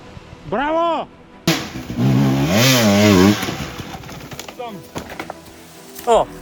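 Enduro motorcycle engine near Pazardzhik revving in several rising and falling bursts, loud and close, with a long sustained rev in the middle and short blips at the end, mixed with people talking.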